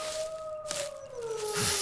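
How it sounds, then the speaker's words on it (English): A wolf howl in the survival video game The Long Dark, a single sustained tonal wail that slowly falls in pitch, heard alone at moderate loudness over a quiet background. "not the wolf howl."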